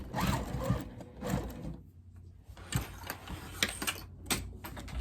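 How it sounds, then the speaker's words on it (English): A sewing machine stitches a no-binding table runner with batting and backing fabric, giving short, close, uneven bursts of rapid mechanical rattling, broken by brief pauses and a quieter gap in the middle. "Oh my God, it started sewing without me."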